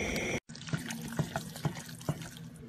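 Liquid pours in a short steady stream with a few splashy bursts after a brief cut, quiet and close.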